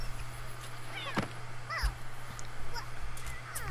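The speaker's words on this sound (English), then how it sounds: "I'm sure I can hear something meowing anyway." A cat meows faintly in The Sims 3, with a few brief thin cries over a steady background hum and no speech.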